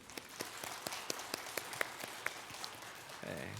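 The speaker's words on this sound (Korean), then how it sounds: "우리 한번 박수할까요?" Congregation in a church at an Advent dawn prayer service clapping for the choir, sparse individual hand claps ringing out at an uneven rhythm in a reverberant room rather than a full round of applause.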